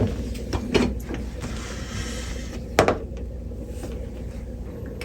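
A mini-split air conditioner's plastic cover is unlatched and pulled off, giving a few sharp plastic clicks and a sliding scrape over a steady background hum.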